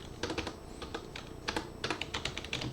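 Someone types a short command on a computer keyboard, a quick run of light, uneven key clicks close up, with no talking.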